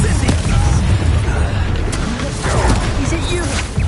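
Confringo fire spell blasts thud and boom amid steady, loud combat clamour in the video game Hogwarts Legacy, with a voice talking through the fight.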